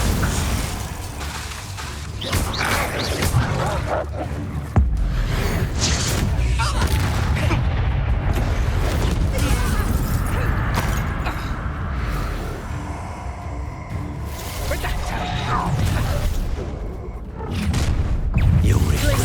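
Confringo blasting spells burst during a Hogwarts Legacy fight, repeated heavy booms and crackling impacts layered over continuous combat noise and a swelling score, with voices speaking now and then.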